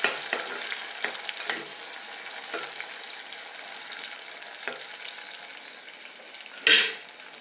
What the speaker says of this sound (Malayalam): ചെറിയ ഉള്ളിയും കൂടെ നന്നായിട്ടൊന്ന് ഫ്രൈ ചെയ്തെടുക്കാം.